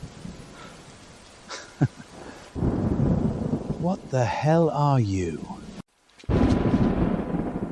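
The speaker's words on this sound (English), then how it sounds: "That was lightning." Thunder rumbles loudly alongside a sharp lightning crack, mixed with heavy rain-like noise, while people shout and talk over it.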